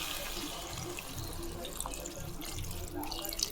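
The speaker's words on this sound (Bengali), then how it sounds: "এবার জল দিয়ে দেবো।" Water is poured into a cooking pan while making a Bengali curry of khesari dal fritters, a soft, steady trickle and splash heard faintly and close by.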